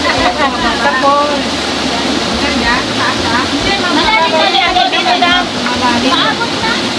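Water rushing along the Sui Ma stream at Braemar Hill in Hong Kong, a loud, continuous broadband roar close by, with chirping birds and people talking over it.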